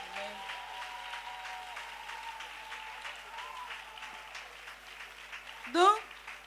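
A church congregation applauds in praise, a steady, moderately distant patter of many hands holding evenly throughout, with faint voices mixed in and a brief louder burst near the end.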